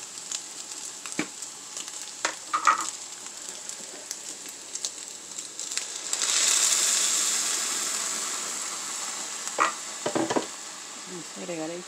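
Green chile sizzling in a frying pan, with intermittent stirring scrapes and a louder burst of frying partway through, steady and close.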